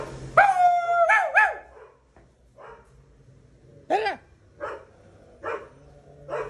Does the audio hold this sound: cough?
no